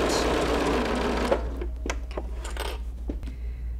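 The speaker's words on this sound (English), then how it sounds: "we're just gonna stitch right along this edge and continue all the way around" A sewing machine runs steadily while stitching binding along the edge of cuddle minky fabric, then stops, followed by scattered clicks and taps from handling the machine and fabric.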